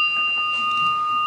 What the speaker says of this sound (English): I hit this bell.